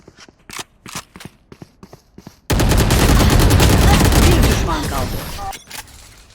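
Gunfire in the video game Valorant: a few sharp single shots, then a dense burst of rapid automatic fire lasting about three seconds, loud and close, fading out near the end.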